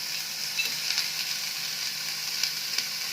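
Sprouted beans hit a hot pan and sizzle steadily, a bright continuous hiss with small crackling pops scattered throughout, close and moderately loud with no talking.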